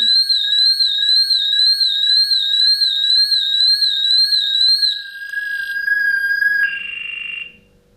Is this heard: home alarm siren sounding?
yes